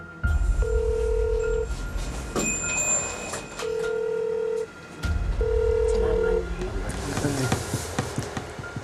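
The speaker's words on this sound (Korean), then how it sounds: "그때 전화가 걸려옵니다" A telephone rings three times, each electronic ring lasting about a second, with clattering and shuffling noises in between and afterward.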